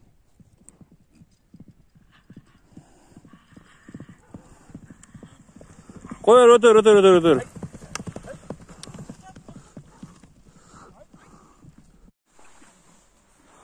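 Horse hooves clip-clop steadily at a livestock sale, light and close, while men bargain over the horse. Partway through, the horse lets out one loud, shrill neigh.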